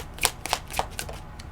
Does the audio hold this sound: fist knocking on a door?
no